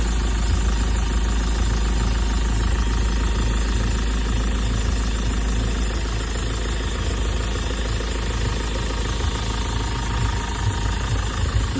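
A 2200 cc BS4 diesel engine in an eight-year-old Mahindra Scorpio S10 with 90,000 km idles steadily, a continuous low rumble with an even, fairly quiet knock and no speech over it.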